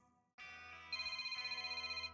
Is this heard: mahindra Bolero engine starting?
no